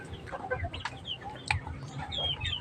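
Flock of 45-day-old chickens, meat birds nearing harvest, clucking close by in a busy overlapping stream of soft calls and brief sharper squawks, with no talking.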